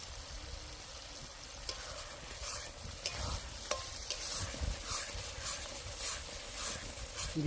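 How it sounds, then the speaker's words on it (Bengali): Spice paste of coriander, turmeric, chili powder, sour yogurt and salt fries in oil for a potol chingri dish, a close steady sizzle broken by repeated spoon scrapes and stirring clatter. "মশলাটাকে ভালো করে ভাজবো। মশলা ভাজবো যতক্ষণ তেল না থাকছে"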